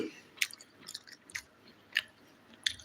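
Fried chicken liver being chewed up close, with soft wet crunchy bites repeating at an irregular pace and no talk.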